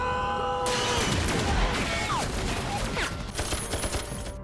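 A gunfight in a film's parking garage ambush, with rapid bursts of gunfire, crashes and impacts layered over a dense, loud action mix that runs without pause.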